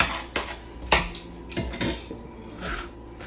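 A utensil is stirred and scraped around inside a hard container holding a mixture, with sharp clinks and knocks coming in irregular bursts, close and clear with no voices.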